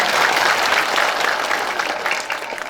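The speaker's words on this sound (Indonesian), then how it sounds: "tepuk tangan dong untuk bantiran yang begitu luar biasa" Sustained applause from an audience at a Balinese drama gong performance by the Bantiran village troupe, dense steady clapping that stays loud throughout and tapers only slightly near the end.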